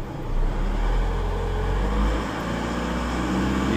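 A Holden Colorado engine revs under acceleration, a steady loud low rumble that swells and eases slightly, close and continuous with no talking.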